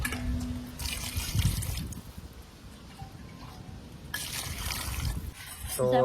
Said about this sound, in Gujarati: પાણી નાખી દીધું છે